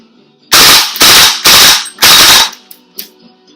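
Four sharp, loud bursts of full-auto fire from a WE MP5 airsoft gun, each lasting about a third of a second with short gaps, shot indoors into a wall, followed by a couple of faint clicks.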